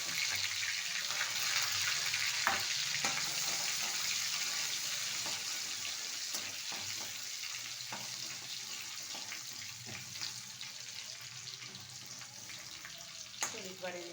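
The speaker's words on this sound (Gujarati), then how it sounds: "પછી નાખી દઈશું આપણે લસણ" Cumin seeds sizzle in hot oil as a tempering for a pigeon pea (tuvar) vegetable dish, with garlic going in next. The frying hiss is steady and close, with occasional utensil clinks and a faint voice.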